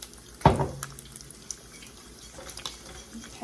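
A small amount of water is poured into a pot of cooking grits in one brief, quiet splash near the start, followed by faint kitchen clinks and near silence.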